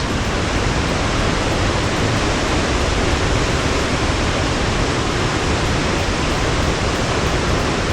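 A rushing stream in Loen, Norway, roars with dense, constant broadband water noise from close by, steady and unbroken throughout, with no voices.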